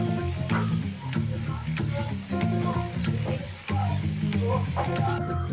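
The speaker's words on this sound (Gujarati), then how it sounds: "હવે આપણે બધાને મિક્સ કરી લઈશું." Aloo paratha potato filling is stirred in a pan with coriander leaves, a spoon scraping and clinking in a steady repeated rhythm over a continuous sizzle, close and loud.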